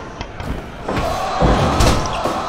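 Indy wrestling show, where a wrestler slams into the mat from a DDT with a heavy thud, followed by more impacts against a murmuring crowd in a hall.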